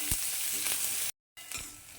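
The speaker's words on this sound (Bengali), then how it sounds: "এটাকে আমি একটু হালকা ভেজে নেব" Chopped onion fries lightly in a pan for a ridge gourd chutney, giving a quiet, steady sizzle that drops out briefly in the middle before resuming.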